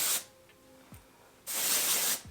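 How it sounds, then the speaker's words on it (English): Moroccan Oil dry texture hair spray hisses from an aerosol can in two short bursts, a brief one at the start and a longer spray shortly after, close and fairly soft, with quiet handling between. "I go in with dry texture spray. This one's from Moroccan Oil."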